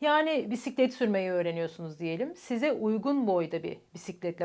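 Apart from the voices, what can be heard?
No everyday noise stands out behind the speech.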